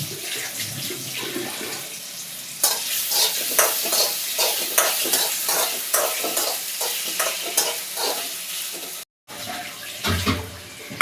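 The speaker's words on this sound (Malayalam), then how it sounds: "നമുക്കപ്പോൾ ഈ ഉരുളക്കിഴങ്ങെല്ലാം വറുത്തെടുക്കാം" Food drops into hot oil, which erupts into a loud, continuous crackling sizzle with brief scraping stirs, close by.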